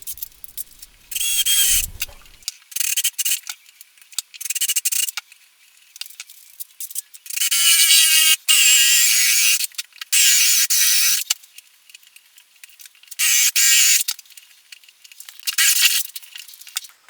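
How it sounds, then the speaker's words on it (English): A drill bores the jack socket hole into a Telecaster guitar body, coming in repeated harsh, high-pitched bursts separated by short pauses. "I'm going to just drill out and then fit the jack socket"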